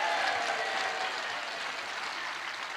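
Congregation clapping in a church during a Friday night service, a steady dense applause lasting throughout and gradually easing slightly.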